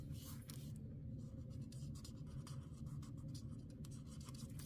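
A gray granite marker scratches across paper while coloring a bunny's paws, chest and muzzle, a soft continuous scratchy stroking, close and quiet over a low background hum.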